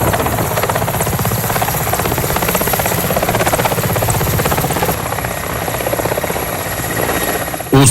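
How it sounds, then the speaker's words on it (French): A military helicopter hovers to drop off troops near a marshy area. Its rotor throbs loud, close and continuous throughout, with a steady engine whine and no voices. "l'hélicoptère en position stationnaire débarque la troupe"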